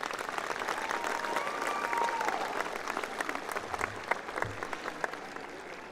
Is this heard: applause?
yes